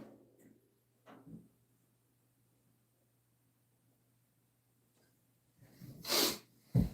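Muffled coughing bursts from a distance, a couple of short faint ones early, then louder harsh coughs near the end against a quiet background.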